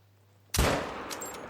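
Single sharp rifle shot during a driven wild boar hunt in Spain: an abrupt loud crack at close range that decays into a long rolling echo.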